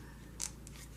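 Paper being snipped with scissors while trimming a die-cut wheel with fine inside spokes for a steampunk journal page, one brief close crisp cut over quiet room noise.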